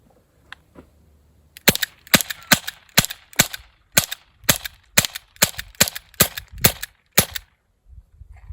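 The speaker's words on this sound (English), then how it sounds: "This is a Crossman Vigilante. I think it's 10 rounds revolver." Crosman Vigilante air pistol revolver fired in a quick string of about a dozen sharp, close cracks at irregular intervals, each a crisp snap with a short tail, nothing else heard.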